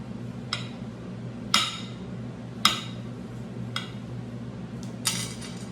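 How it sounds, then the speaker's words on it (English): A knife chops food finely on a cutting board. About five sharp, evenly spaced taps ring out against a quiet room hum. "I'm just gonna cut it real finely."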